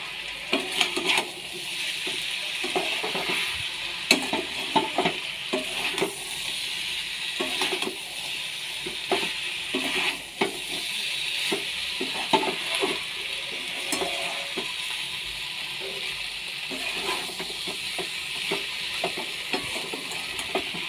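A spice masala is fried and stirred in a pan, with a continuous oily sizzle and frequent scraping, clinking strokes of a utensil against the metal, close and steady throughout.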